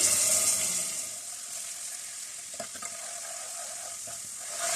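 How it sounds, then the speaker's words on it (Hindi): Continuous close sizzling of garlic ginger paste frying in a hot pan, with a couple of soft stirring scrapes, no voices. "लहसुन अदरक को कम से कम इसमें 2 मिनट तक फ्राई करने के बाद"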